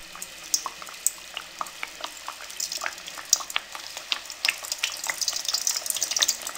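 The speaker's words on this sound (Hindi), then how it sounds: "मीडियम फ्लेम पे हम इनको फ्राई करेंगे" Jaggery cakes deep-fry in cooking oil over a medium flame, giving a continuous bubbling sizzle with many small crackles and pops.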